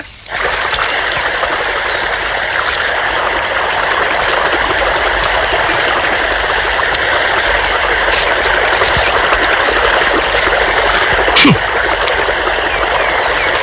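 Water rushing steadily through a farm irrigation channel, a loud, continuous broadband roar lasting throughout, with one brief sharp sound near the end.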